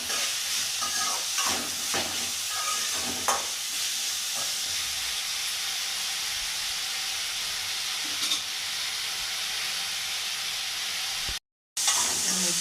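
Bitter gourd sautés in a pan with salt, giving a continuous hissing sizzle and occasional scraping stirs, close and fairly loud, with a brief dropout near the end and no speech.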